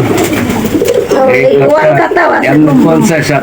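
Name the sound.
pigeons cooing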